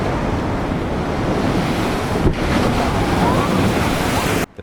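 Strong wind buffets the microphone while North Sea waves roll and wash steadily along the Yorkshire coast, a loud, continuous roar that cuts off abruptly at the end.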